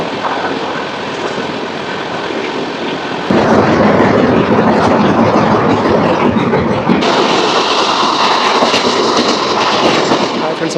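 Golconda Express train at Guntur station, a loud continuous rumble of the running train with a sharp step up in level partway through, broad roaring noise sustained throughout.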